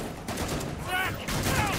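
Gunfire in the video game Killing Floor 2, a dense, continuous run of loud shots layered together with other game sounds and some background chatter.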